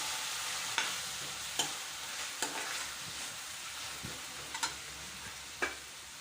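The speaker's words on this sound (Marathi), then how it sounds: "आता मी इथे टाकत आहे एक टमाटरची पिवरी हे सर्व छान मिक्स करून घ्यायचं" An onion and tomato puree mixture being stirred in a hot pan, a constant low sizzle under regular spoon clicks and scrapes roughly every second, close by with no talking.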